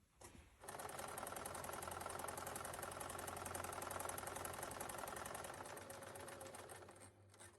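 A sewing machine stitching the lining of a fabric Easter gift bag runs in a steady, fast, continuous whir for several seconds, starting and stopping abruptly, close by with no talk.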